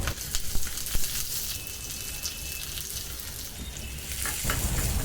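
Mustard seeds crackle and sizzle in a little hot oil, a dense steady frying hiss with scattered sharp pops, close and continuous with no talking.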